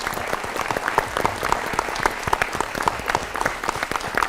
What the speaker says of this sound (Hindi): एक बार स्वामी जी के लिए तालियां और आपके लिए भी तालियां